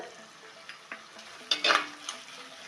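Onions with salt sauté in oil in a clay pot: soft sizzle under sporadic scraping stirs and clinks of a spoon against the pot, with one louder burst of stirring near the middle, and no talking.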